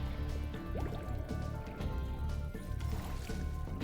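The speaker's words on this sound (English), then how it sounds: "Bubbles." Bubbles in Spyro 2: Ripto's Rage, in an underwater level with divers: a stream of gurgling, dripping liquid sounds with soft popping bursts over a low watery rumble, fairly faint and continuous.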